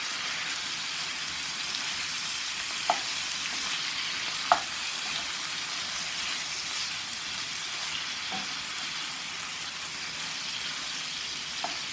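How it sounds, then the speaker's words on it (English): Turkey sausage sizzles steadily in a pan while it is broken into chunks, a continuous hiss with a few faint clicks from a utensil and no talking. "we're going to let the turkey sausage cook until it's brown and it's completely cooked through"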